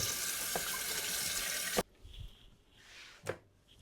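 Tap water running over soaked, softened halal chicken in a sink, a loud steady rush that cuts off abruptly, followed by faint dripping and small handling splashes.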